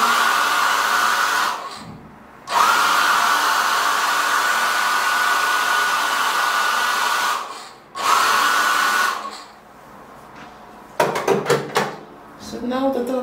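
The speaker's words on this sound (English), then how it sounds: "I grab this heat blow dryer." A handheld heat blow dryer blows gentle warm air on hair, a loud steady whoosh running in two long bursts separated by a brief cutoff, then switching off, followed by a few clicks and handling noises.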